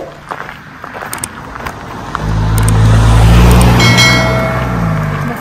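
A car approaches and passes on a park road in Vrata Valley, Slovenia, its engine and tyre rumble swelling from quiet footsteps and birdsong into a loud, close roar that then eases off.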